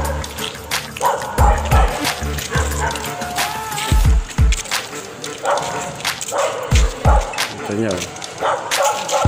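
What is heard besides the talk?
dogs barking at night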